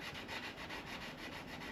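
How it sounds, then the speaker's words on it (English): A 320 sanding pad scuffs paint on a planer's cast table and sprocket housing, giving a continuous, close, rhythmic rubbing with a rasp that pulses back and forth in quick strokes, with no talking. "the tougher stuff with a sanding pad"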